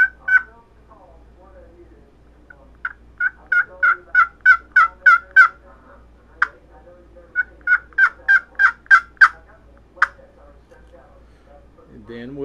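A hand-held turkey call imitates a wild turkey's soft tree yelps and light clucks, given as two separate runs of short, evenly spaced notes with pauses between them, fairly quiet and close, with no talking.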